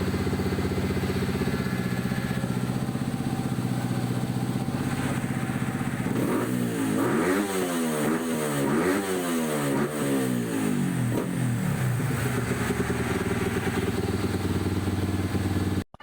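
A pit bike engine runs during ECU tuning, idling steadily, then climbing through several sharp revs in quick succession before settling back to a steady idle, loud and close with no voices.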